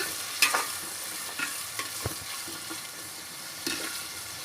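Tomatoes frying in a pan for a drumstick chicken curry give a soft, steady sizzle with a few sharp scrapes and taps from stirring, near and fairly quiet.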